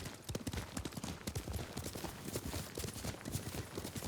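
Horse hooves galloping in Ghost of Tsushima, a rapid irregular clatter of hoofbeats at close range, quiet overall, with the thumps driving on without pause.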